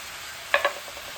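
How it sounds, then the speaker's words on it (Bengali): Mixed vegetables are stirred in a frying pan: two quick scraping strokes of a spatula stand out over a faint, steady background sizzle. "অল্প একটু লাল লঙ্কার গুঁড়া দিয়ে ভালো করে আমি নেড়ে চেড়ে মিশিয়ে দেবো।"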